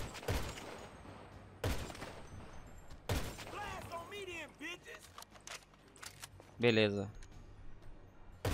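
Loud gunshots from a weapon in the zombie-mod video game GTA 5, three sharp blasts spaced about a second and a half apart, with a voice talking between them.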